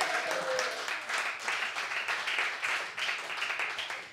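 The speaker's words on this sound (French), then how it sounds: "Voulez-vous, messieurs, dames, applaudir" Studio audience applauding a contestant on a French TV comedy show, sustained clapping from a large crowd with pulsing waves, moderately loud and continuous throughout.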